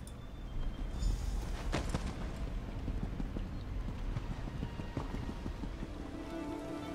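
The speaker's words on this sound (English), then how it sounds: "That's a nice horse." Horse hooves in The Elder Scrolls Online, a faint continuous clip-clop with soft scattered knocks that stays quiet and even under a light ambient hiss.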